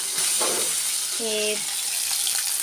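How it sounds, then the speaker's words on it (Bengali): A loud, constant sizzle of fish frying in a pan fills the clip, with a brief voice sounding partway through. "এদিকে মাছ ভাজছি"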